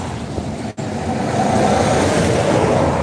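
Traffic on a busy road near Gaymans Bridge rushes past in a continuous loud roar, swelling as vehicles pass close by.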